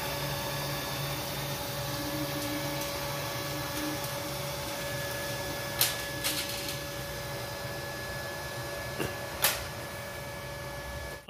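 A Neato D7 Botvac robot vacuum runs with a steady, even motor whir and brush hum, with a few faint clicks and bumps along the way, and no one speaks.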